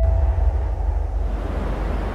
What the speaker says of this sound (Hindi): तेज हवाएं, समुद्री तूफान के खतरात